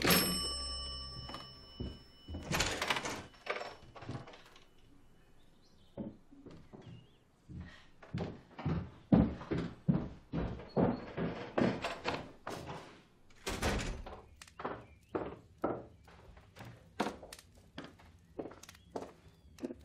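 Series of sharp knocks at a door, repeated in uneven bursts with short pauses, fairly close and loud, with no talking over them.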